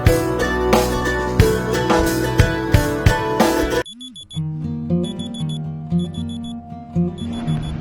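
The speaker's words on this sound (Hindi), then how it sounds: "सुबह के 3 बजे मेरा पहला अलार्म बजा" An alarm clock rings in the early morning with a steady repeating electronic beep pattern, loud and close, first over dense music and then more exposed with softer background tones.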